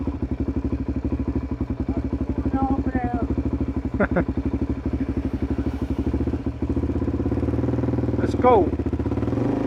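A supermoto motorcycle rides down a coast road, its engine a steady, close, unbroken drone for the whole stretch, with someone talking briefly over it and a couple of knocks and rattles.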